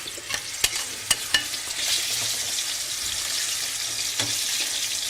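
Plantains slide into hot oil on medium heat and crackle in a steady, close sizzle, with a few sharp clicks and taps from handling at the start.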